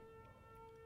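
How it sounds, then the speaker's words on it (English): Tornado sirens wailing outdoors during a Chicagoland tornado warning: a faint, steady, sustained tone held throughout, distant and quiet. "There are the tornado sirens."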